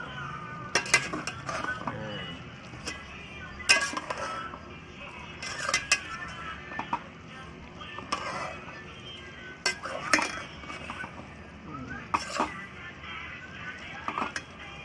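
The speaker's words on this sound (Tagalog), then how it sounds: "Tapos natin haluin, takpan natin ulit." Metal utensil stirring food in a cooking pot, with a few sharp clinks and scrapes against the pot spaced through a quiet kitchen background, fairly close and moderately loud.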